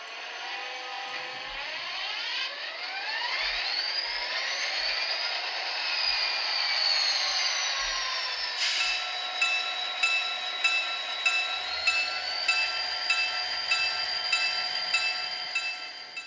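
An HO scale Kato SD40-2 locomotive with a Tsunami sound decoder rumbles along steadily with a diesel drone, and its horn-like tones rise and sustain over the continuous running sound throughout.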